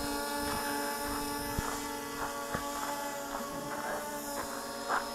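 Motors of a JJPRO X5 brushless GPS drone whine steadily during automatic takeoff, a constant buzzing hum with a few sharp clicks, heard from a short distance.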